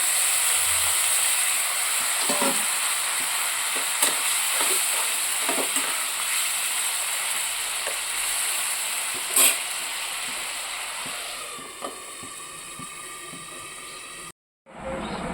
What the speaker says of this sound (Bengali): মশলাটা কষানো হয়ে গেছে আর অল্প একটু জল দিয়ে দেবো